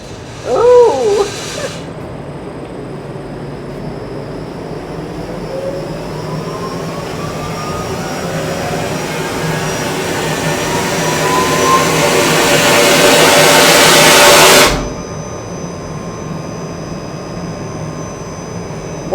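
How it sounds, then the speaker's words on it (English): Air rushes out through the relief valve of a water well pipeline in a long, loud roaring hiss that builds steadily like a jet engine for over ten seconds, then cuts off abruptly, after a brief thump at the start. "that hissing and that noise you hear is the air being expelled out of the line through that air relief valve"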